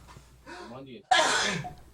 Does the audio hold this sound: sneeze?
yes